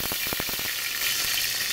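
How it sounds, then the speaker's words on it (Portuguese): Pork lard sizzles steadily in a hot pan, a dense bright crackle with a few sharper pops early on, close and continuous with no talking. "Olha o barulhinho já, que a panela já estava quente"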